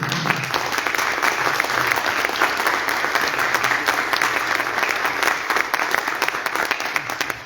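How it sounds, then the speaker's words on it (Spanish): Long burst of audience applause, many hands clapping in a dense, steady roar with some individual claps standing out, close and fairly loud with no talking. "merece un aplauso grandísimo"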